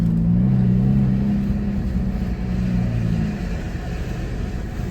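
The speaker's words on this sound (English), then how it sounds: "We finally got the Jeep up and running under its own power." A rebuilt, previously wrecked Jeep Cherokee drives under its own power, with a loud, steady low engine drone and rumble close by that eases slightly toward the end.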